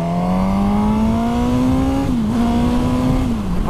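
A Suzuki GSX-S1000 straight-four motorcycle accelerates with a loud, smooth engine note that rises steadily in pitch, dips briefly at a shift, then climbs again, heard close and without talk.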